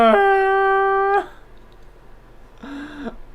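Max the dog lets out a long, loud, steady howl close by, then breaks off and follows with a shorter, quieter wavering howl after a pause.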